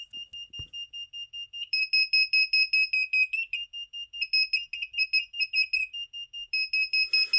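A shrill Arduino active buzzer from an Elegoo Uno R3 kit beeps in a fast, pulsing pattern close by, its pitch and tone wobbling as a finger covers and partly muffles it, with brief open stretches where it sounds cleaner.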